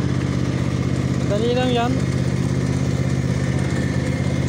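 A lawn mower engine idles steadily throughout at moderate volume while someone speaks over it.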